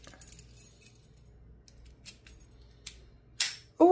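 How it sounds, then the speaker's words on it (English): Keys jangle after a 50mm laminated padlock is opened, a couple of faint metallic clinks and then a louder close rattle at the end. "We earned those keys, like Mr. Sandman says."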